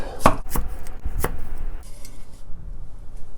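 A knife chopping an onion on a cutting board for braised kimchi with pork, a few sharp, close thuds in an uneven rhythm, then quiet kitchen room tone.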